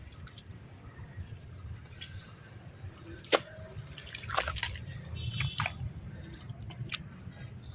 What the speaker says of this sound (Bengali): এর উপর দিয়ে এবার জল দিয়ে দেবো, হয়ে যাবে।